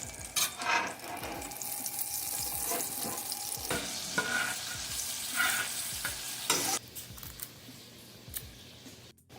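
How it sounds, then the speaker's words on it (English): Olive oil and butter heat together in a pan, giving a soft, uneven sizzle with scattered crackles and light clinks and scrapes, fairly faint and fluctuating, ending in a sharp knock. "Add 2 tablespoons of olive oil, and about the same amount, 1 or 2 tablespoons of butter,"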